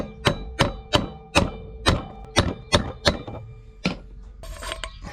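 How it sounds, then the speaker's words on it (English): Hammer tapping a greased bearing gently into its hole, a steady series of about nine sharp, ringing metallic taps roughly half a second apart, close and clear, followed by light clinking. "we'll just tap it nice and gentle into the hole"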